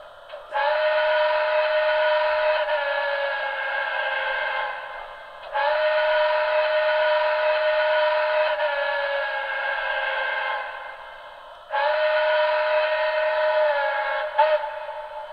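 Broadway Limited Blue Goose model train sounding a whistle option: three long, steady chime-like blasts, each a few seconds, with short gaps between, loud and close with no talking.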